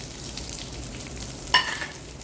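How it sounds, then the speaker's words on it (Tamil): Seasoning sizzles in hot oil in a pan while cauliflower poriyal is being cooked. A steady soft frying hiss runs throughout, broken by one sharper stirring scrape near the end. "அந்த பொரியிற சவுண்ட் கொஞ்சமாக வர ஆரம்பிச்சோடனே"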